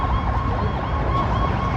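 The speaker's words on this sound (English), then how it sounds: "Oh, gotta wait for this ambulance coming." An ambulance siren wails on a city street in Washington DC during cherry blossom season, a loud, close, continuous rising-and-falling tone over traffic rumble.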